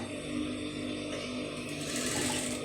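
A sewing machine runs at a steady, continuous hum while stitching the joint on a front fabric piece, holding an even level throughout with no pauses and no speech.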